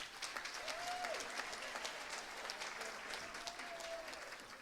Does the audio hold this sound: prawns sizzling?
no